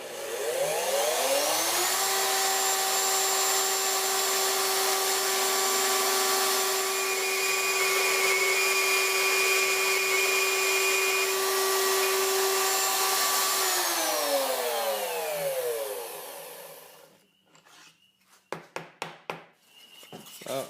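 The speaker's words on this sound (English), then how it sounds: "There, ready to cut your first tenon." A homemade slot mortiser cuts a tenon in wood, a steady loud motor whine spinning up, holding an even pitch for about fifteen seconds, then winding down, followed by a few brief knocks and clatters.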